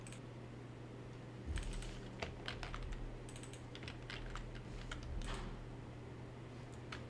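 Fast bursts of clicking on a computer keyboard, irregular clusters of keystrokes with short pauses, quiet and close against a low steady hum.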